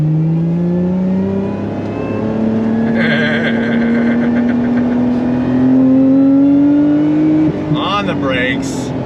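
Supercharged Lotus Emira sports car engine pulling through a U-turn, a steady rising drone that climbs in pitch, loud and close, with someone talking over it and a brief sharper burst near the end.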